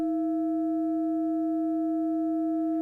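A 300 hertz sine-wave test tone plays as a pure, steady hum with a few faint overtones. It is loud and unchanging for about three seconds and stands alone.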